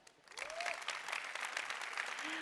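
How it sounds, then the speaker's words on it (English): Audience applause fills a ChangeNOW climate conference hall, a broad steady wash of many hands clapping that swells within the first half second and holds evenly to the end, with no talk over it. "Please give an incredible ChangeNOW warm round of applause to Yamina Sabad."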